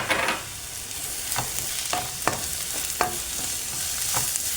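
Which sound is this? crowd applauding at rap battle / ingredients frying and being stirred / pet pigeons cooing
ingredients frying and being stirred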